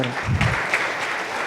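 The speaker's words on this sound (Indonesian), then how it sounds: "Yang setuju berikan tepuk tangan meriah buat Tuhan kita" Church congregation clapping during a service, a brief burst of applause with a voice briefly heard at the start before the clapping fades into a steady patter.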